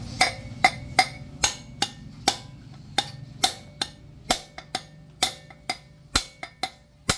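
Sharp metallic strikes repeat at a steady, fairly quick rhythm, about twenty hammer blows on an old axle used to drive out a broken bearing from a mag wheel, close and loud with a low hum underneath.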